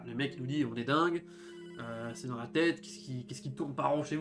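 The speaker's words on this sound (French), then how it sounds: "vous entendez dans ce bruit de fond le téléphone qui sonne" A telephone ringing in the background of the video game Hotline Miami 2, a repeating bell-like ring running beneath someone talking throughout.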